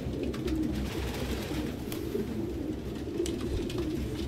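Pigeons cooing in the Detroit: Become Human video game, a steady low murmur of many birds that continues through the whole stretch at a moderate level, with no voices over it.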